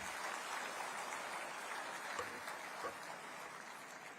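Faint, steady applause from a large audience at a home guards and civil defence convention at Mahatma Mandir, Gandhinagar, a distant wash of clapping with a few louder claps.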